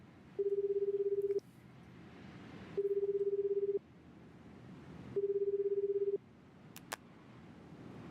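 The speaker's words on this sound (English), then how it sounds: "he got out his phone and called the detective." A phone call in the game 428: Shibuya Scramble rings out three times, each a steady one-second ringback tone separated by pauses, clear over a low background hum, followed by a couple of faint clicks.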